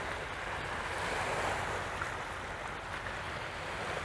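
Ocean surf washing back in over a rocky shore, a steady broadband wash of water with wind noise on the microphone, continuous and fairly near with no voices.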